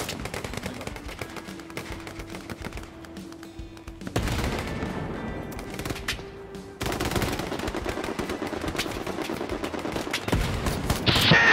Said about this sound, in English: there's an MG right in front of me